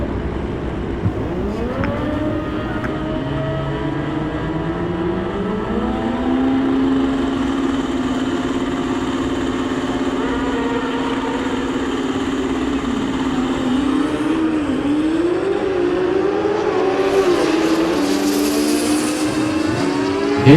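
Drag racing motorcycles, including a Kawasaki ZX6R, launch down the strip at a Mancup World Finals event, engines screaming in sustained rising and falling tones with a steady loud drone throughout.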